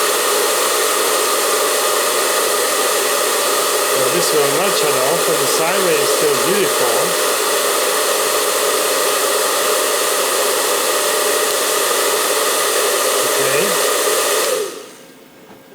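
A fan heater runs with its heat on, powered by a Victron Energy Phoenix inverter, making a loud, steady, breathy roar while someone talks over it, before it abruptly cuts out near the end.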